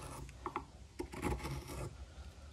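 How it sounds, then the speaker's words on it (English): A long bent gouge takes fine shavings off wood, giving soft, close scraping and rasping strokes that come in short, uneven bursts with brief pauses between cuts. "you can see we're just taking off really fine"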